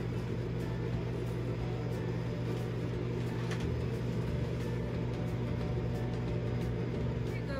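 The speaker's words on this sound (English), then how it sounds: "put them in the microwave, close them, all right, and microwave them for a couple of minutes" A microwave oven running while cooking a brownie in a cup, a steady low hum and rumble with an even, unbroken drone at constant loudness, and no one speaking.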